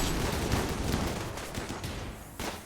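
Gunfire from a firefight in the video game Rimworld, a dense, continuous fusillade of overlapping shots crackling steadily at moderate loudness with no voices.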